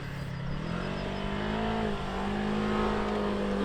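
Off-road vehicle engine labouring steadily as it climbs a steep hill, a continuous near drone with rising pitch and no speech.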